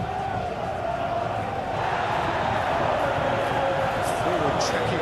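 Stadium crowd in the football game PES 21, a dense continuous roar of cheering that swells slightly partway through, with commentary voices over it.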